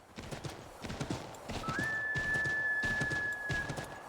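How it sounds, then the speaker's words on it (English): A horse from the Assassin's Creed video game, set in 1776, gallops with quick rhythmic hoofbeats in repeating bursts, while a long sustained whistle-like tone runs through the second half. "I didn't even order the horse to just run in a circle"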